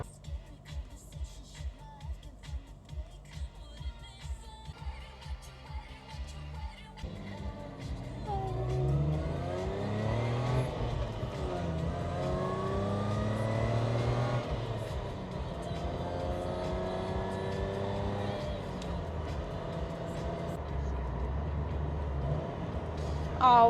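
A manual-swapped car accelerates hard while racing a Ford, its engine rising through sweeping revs with gear changes, sustained and fairly close, following an earlier stretch of rhythmic mechanical knocking.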